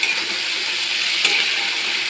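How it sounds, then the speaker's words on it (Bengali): Onions sizzling steadily in a pan of oil while being stirred, with a loud, continuous close hiss and a faint scrape of the stirring utensil partway through. "এবার পেঁয়াজটা একটু লালচে ভাজা হোক"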